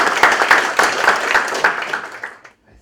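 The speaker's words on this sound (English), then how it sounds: "round of applause" A short burst of audience applause at a hardware hackathon judging event, loud and close, with clustered claps that thin out and stop after about two and a half seconds.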